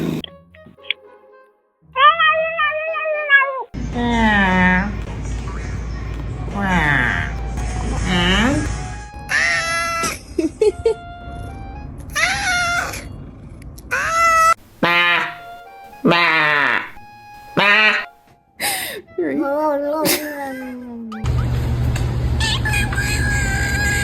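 Several cats give strange, drawn-out meows and warbling yowls in a series of separate calls, some long and wavering, others short and sharp, close to the microphone with brief pauses between them.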